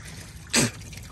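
Water with antifreeze gushes briefly from the cooling system of a 1939 Ford 1.5-ton truck with a flathead V8, a single short splash over a quiet background.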